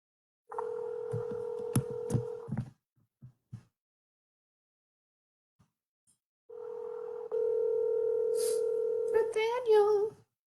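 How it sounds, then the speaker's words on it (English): Telephone keypad tones: two sustained dual-tone bursts, a couple of seconds each, separated by silence, with a few short clicks between them and a brief voice-like flutter at the end. "I'm going to call Nathaniel if I can get through to him"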